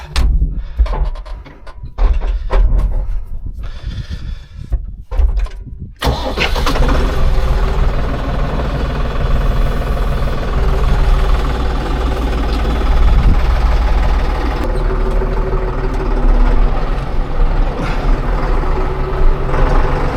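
A tractor engine in a village in Göle, Ardahan, cranks over after a few seconds of idle rumble, then catches and runs with a steady, loud, close mechanical roar.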